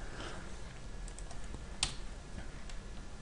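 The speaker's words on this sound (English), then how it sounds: "just by typing in five letters, we can just press enter" Quiet, fast keystrokes on a computer keyboard, a light scattering of clicks with one sharper key press midway over a faint background hiss.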